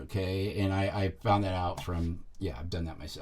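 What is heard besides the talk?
No everyday noise stands out behind the speech.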